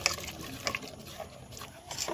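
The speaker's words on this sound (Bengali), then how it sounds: "এবারে বাটি ধোয়া সেই বাটি ধোয়া জল দিয়ে আমি একটু পাতলা করে নেব" Water poured from a rinsed bowl into a thick rice and lentil batter gives a soft, faint trickling and splashing that runs quietly and unevenly throughout.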